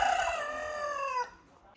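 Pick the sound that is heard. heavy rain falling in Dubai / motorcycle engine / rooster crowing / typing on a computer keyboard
rooster crowing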